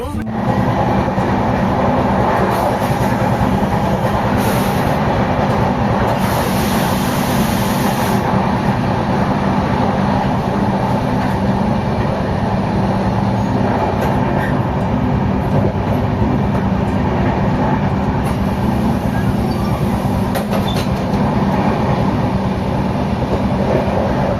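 Loud, constant rumble of the Saraighat Express at Bardhaman station, India, engine drone and rolling clatter filling the whole stretch, with faint voices mixed in.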